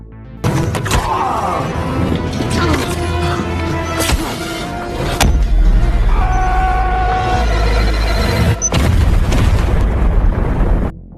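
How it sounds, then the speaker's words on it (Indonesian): A homemade explosive device goes off in an action film with loud booming blasts and crashes. Debris and rumbling follow, heavy and close, with sharp bursts at several points. "Jason berhasil menghabisi Ramon, dengan alat peledak, yang Ramon rakit sendiri"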